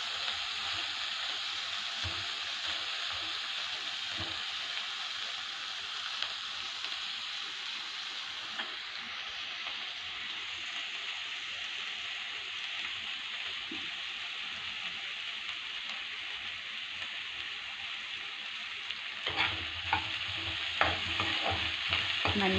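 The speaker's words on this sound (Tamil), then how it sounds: "நல்லா வதங்கணும். வெங்காயம் ஒரு மாதிரி கோல்டன் கலரில் வரணும் வெங்காயம்." Onions sautéing in a pan for a Tamil home-cooked dish, a steady close sizzle with occasional stirring scrapes throughout, loud and continuous with no talking.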